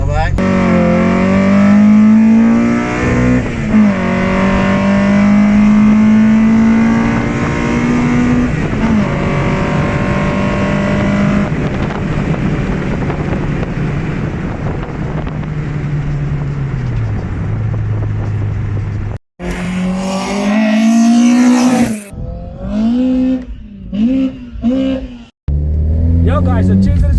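A red Nissan sports car being driven, its engine droning and revving through rising and falling pitches, up close and loud inside the cabin, with a voice talking over it and a brief cut before more revving.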